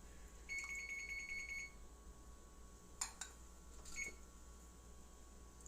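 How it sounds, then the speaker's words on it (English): A kitchen oven set to bake at 425 beeps in a rapid run of short electronic tones, faint and steady, followed by a few soft clicks and taps in an otherwise quiet room. "why are you beeping at me? I hit start."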